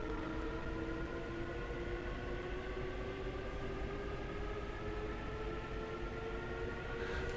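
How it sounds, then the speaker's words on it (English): A rapid transit train in the Train Sim World game runs steadily with a continuous rumbling hum and rising whining motor tones, loud and close throughout, with no voices. "It sounds like, compared to other trains I've been on, especially the British ones, this is like a starship, isn't it?"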